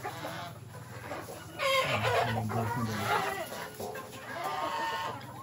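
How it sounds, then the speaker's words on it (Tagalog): Chickens cluck and squawk close by at feeding time on a farm in a busy, overlapping flurry, with a brief spoken line near the start. "Magpapakain na siya ng manok."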